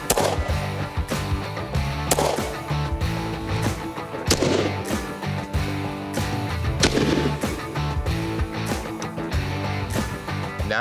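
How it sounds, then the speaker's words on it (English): A 10 millimeter SIG pistol fires at an outdoor range, several sharp loud shots spaced irregularly over a few seconds with echo and no talking. "All right, Paul, I got my 10 millimeter SIG, my GT20 that we made up for Gun Talk. First time to shoot this gun"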